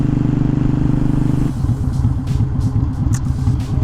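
A Harley Sportster motorcycle idles nearby with a loud, lumpy rumble, then clunks into neutral partway through and keeps idling with an uneven, loping beat.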